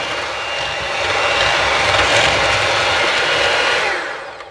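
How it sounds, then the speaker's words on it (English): An electric mixer with whisk attachments creams brown sugar on low speed for cookie dough, a steady broadband whirring hum that swells slightly and then fades at the end, close and alone with no talk. "we're just going to mix that up with the whisk for about 2 to 3 minutes till it's nice and creamy"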